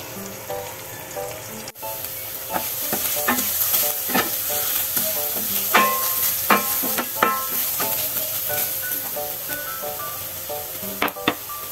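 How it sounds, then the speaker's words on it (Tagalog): Eggplant slices frying in oil in a pan for a pork giniling dish, a steady close sizzle broken by frequent sharp crackles and pops of spattering oil with occasional stirring clatter, no voices. "Kailangan muna nating iprito siya bago natin isama sa ating pork giniling."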